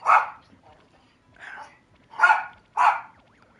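A pet dog barks four times in short, sharp bursts, close by and fairly loud, with quiet gaps between the barks.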